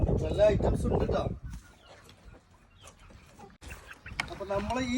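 Native country chickens kept in a backyard in Dubai cluck in scattered, fairly close bursts, while someone talks loudly over the start of the clip.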